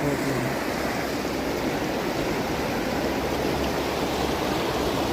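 A river rushes continuously, a loud, steady roar of flowing current with no pauses or voices.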